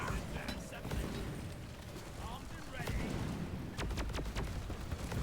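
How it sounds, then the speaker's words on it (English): A cryo cannon fires in the co-op mining shooter Deep Rock Galactic: a dense, continuous roaring spray mixed with crackling bursts, loud and unbroken amid busy combat noise. "I'm having a good time with the cryo cannon today."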